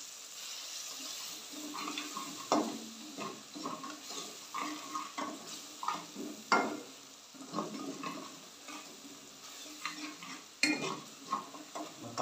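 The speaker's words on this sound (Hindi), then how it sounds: "5 मिनट के लिए हमारे मसाले को भूनेंगे।" Spices, including coriander and turmeric powder, fry in a pan for an aloo palak sabzi. A spoon scrapes and stirs in irregular bursts over a quiet, continuous sizzle.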